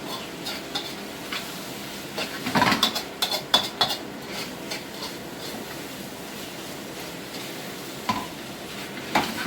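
Peppers frying in a pan for Peruvian lomo saltado, with a steady close sizzle and a cluster of utensil scrapes and clinks as they are stirred, then quieter frying.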